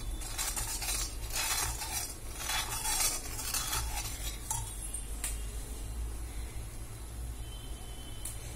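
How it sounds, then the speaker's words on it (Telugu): A spoon scraping and stirring milk in a metal pan while making Horlicks milk peda, with soft repeated scrapes over a low steady cooking hiss, close and fairly quiet. "మనం అలాగే కలుపుతూ ఉండాలన్నమాట, లేకపోతే అడుగంటుతుందన్నమాట."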